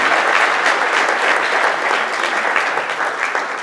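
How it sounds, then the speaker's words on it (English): Audience at a high school prom grand march giving a loud, steady round of applause, a continuous wash of many hands clapping throughout without a break. "I think they should have a round of applause for this nice scene."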